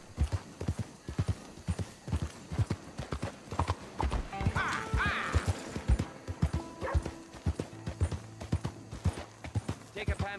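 Horse hooves clip-clop steadily in Red Dead Redemption 2, a rhythmic run of close, distinct hoofbeats with a brief whinny midway and talk heard over the trotting.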